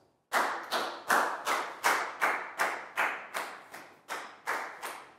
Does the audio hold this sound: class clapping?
yes